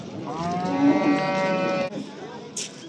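A cow at a livestock market gives one loud, drawn-out moo close by, lasting over a second before fading into quiet background noise.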